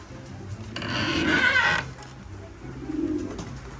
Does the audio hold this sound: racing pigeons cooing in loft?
yes